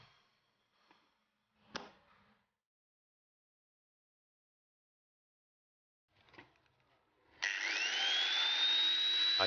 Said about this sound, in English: I try using my angle grinder